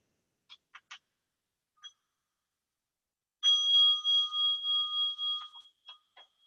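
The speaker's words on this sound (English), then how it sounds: "I will invite the sound of a bell." A mindfulness bell is struck once and rings out clearly, its bright sustained tone holding for about two seconds before fading, preceded and followed by a few faint small taps and knocks in an otherwise quiet room.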